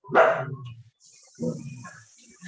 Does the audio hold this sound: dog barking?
yes